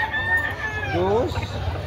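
Young stag rooster at a market sale in Carbon, Cebu, giving a single drawn-out crow with a falling tail, close by amid faint background chatter.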